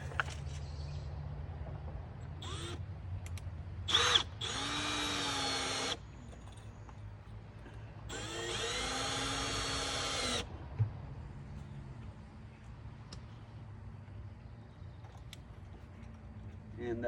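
Power drill driving screws to fix wires into a box: two separate bursts of high whirring motor noise, each lasting about two seconds, with short clicks and a quieter background between them.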